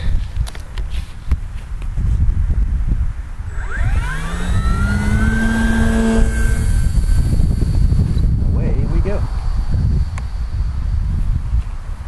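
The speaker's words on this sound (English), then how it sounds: "We'll do some full throttle flybys and we'll compare notes." A radio-controlled F4F Wildcat model plane fitted with a T-28 propeller makes a full-throttle flyby outdoors, its engine whine rising and falling in pitch as it passes close, over steady wind and handling noise.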